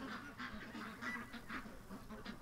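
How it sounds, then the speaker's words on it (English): Ducks being rounded up into a pen quack repeatedly in quick, overlapping calls, moderately distant and fairly faint, with no talk. "we're going to get the ducks in the pen"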